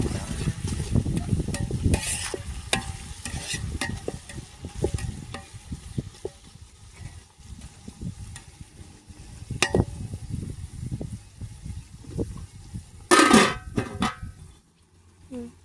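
Plenty of onions sautéing in oil in a pan for Andhra-style biryani, a continuous crackling sizzle with scattered ladle clinks and a louder scrape near the end, without speech.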